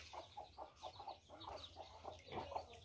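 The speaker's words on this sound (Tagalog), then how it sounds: "Yan yung ating mga sisiw." Young chicks on a farm cheep in quick repeated peeps, a rhythmic series of short high calls close by and fairly faint, with no talk.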